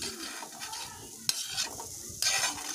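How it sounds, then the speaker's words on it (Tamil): Boiled small tubers (siru kizhangu) are stirred into masala in a pan, with soft scraping and shuffling, a sudden sharp knock, then a brighter burst of sizzle and scraping, close and fairly quiet, no voices. "எல்லா மசாலாவும் அந்த சிறுகிழங்கோடு மிக்ஸ் ஆகிற மாதிரி நல்லா மிக்ஸ் பண்ணி விட்டுக்கோங்க"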